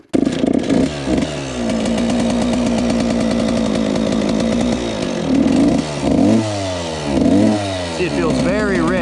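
A 30-year-old Suzuki RM 125 two-stroke dirt bike engine runs loud and close, a buzzing idle broken by several sharp revs that rise and fall, with no talking over it.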